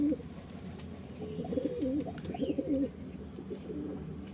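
Malwai pigeons cooing in a loft: repeated soft, low, throaty coos from several birds in a steady rolling rhythm, close by, over a quiet background hum.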